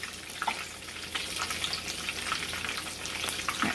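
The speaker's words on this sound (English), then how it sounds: "Now don't put them too close to each other so they'll fry good." Breaded chicken strips fry in a non-stick pan, giving a steady, close crackling sizzle with brief brighter pops scattered throughout and no talking.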